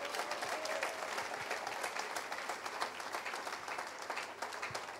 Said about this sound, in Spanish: Palmas al Señor, alábalo.